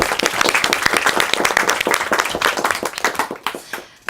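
Audience at a literary event in Brussels applauding a writer and her translator, a dense burst of hand claps that fills the room and thins out near the end.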